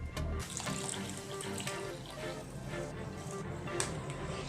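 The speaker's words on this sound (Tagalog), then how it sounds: "dadagdag tayo ng isang basong tubig" A glass of water is poured into a cooking pan of escabeche, giving a close, steady splashing and sizzling rush that continues throughout with faint clinks.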